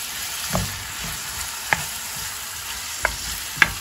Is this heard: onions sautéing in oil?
yes